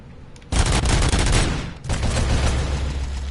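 Sustained bursts of gunfire aimed at a turret in the RoboCop: Rogue City video game, loud and close, with a brief lull partway through before the shooting resumes.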